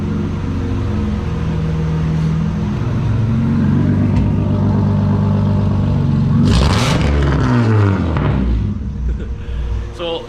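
A Honda Civic EG with a swapped J32 V6 engine idles with a deep, steady rumble, then gets a sharp blip of the throttle that rises quickly and falls back to idle.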